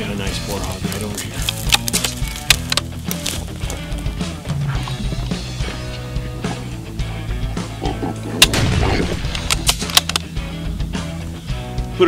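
A rifle shot rings out while hunting a wild boar hog in scrub oak on a Southern California ranch, a sharp loud crack among other clicks and thumps, with background music and someone talking.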